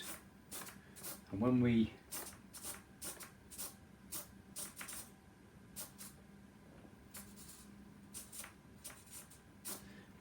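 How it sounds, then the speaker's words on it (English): Small RC model servos on a balsa Spitfire wing whir in short repeated bursts as they move the elevators, faint and close, with a louder buzzing sweep near the start and someone speaking briefly. "now let's just test our servos"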